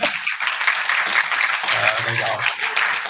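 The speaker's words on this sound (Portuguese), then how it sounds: "Vocês escutaram a salva de palmas?" A burst of applause is played as a sound effect during an online call, coming through as a dense, hissy, compressed clatter, with a single spoken word over it.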